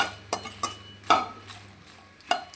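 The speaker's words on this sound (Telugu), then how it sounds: "డ్రై ఫ్రై చేసుకోవాలండి అసలు వే అసలు మాడనివ్వకూడదు మీడియం ఫ్లేమ్లో పెట్టుకుని బాగా వేయించుకోండి" Ginger dry-fries in a pan over medium flame, with a few distinct scraping and clinking stirs of a spoon against the metal, spaced irregularly over a quiet background.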